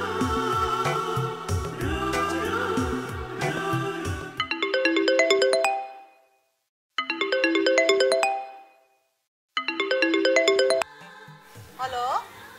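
After a busy stretch of other sound at the start, a phone ringtone plays a melodic chime pattern in three repeated bursts, each followed by a short silence, clear and close.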